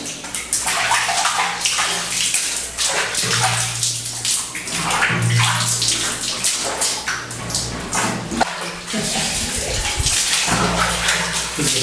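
Cold water is poured over someone bathing, with steady, loud splashing and dousing that runs the whole time, some heavier gushes landing in between, and no voices.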